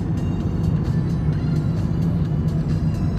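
A car cruises along a smooth highway between Saratov and Samara via Pugachev, producing a steady, loud low road-and-engine drone heard from inside, unbroken and without talk.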